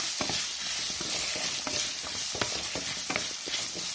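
Chopped ridge gourd pieces frying in a pan for a quick gravy curry, with a soft steady sizzle and repeated light scrapes and taps of a spatula stirring them.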